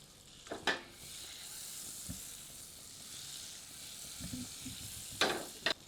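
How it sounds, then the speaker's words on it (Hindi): A butter cube melts in a hot pressure cooker with a soft, steady sizzle, broken by a few brief scrapes and clinks of a ladle against the metal. "अब एक प्रेशर कुकर में एक बटर क्यूब को गर्म करके पिघलाते हैं।"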